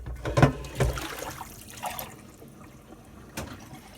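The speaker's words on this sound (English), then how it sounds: "So I'm going to rinse this one out because I got crap in it." Water splashes and sloshes briefly in a cast iron pan as it is rinsed near a propane stove outdoors, with a few close, uneven bursts of pouring and dribbling that trail off.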